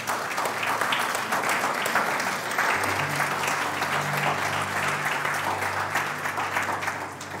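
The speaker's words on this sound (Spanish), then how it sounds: "Dele el mejor aplauso que tenga el Señor." A church congregation claps steadily for several seconds, a full, even wash of applause with faint sustained musical tones underneath.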